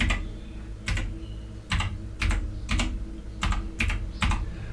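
Keys tapped on a computer keyboard while typing a short command, about eight or nine quick clicks in uneven clusters, close and clear over a low background hum.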